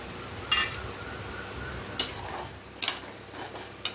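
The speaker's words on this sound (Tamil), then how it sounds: "இப்போ வந்து இந்த வாழைக்காயை இதில் கொட்டிடலாம்" Chopped raw plantain tipped into cooked lentils in a metal pot, a few separate clanking knocks of a utensil against the pot with soft shuffling in between, close and fairly quiet.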